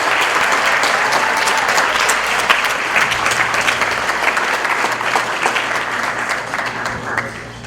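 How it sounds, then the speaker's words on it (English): Wedding guests applaud after a toast, a dense sustained clapping from a sizeable room that carries on steadily and fades slightly at the end. "let's give a great big round of applause for my brother Philip and sister-in-law Dana"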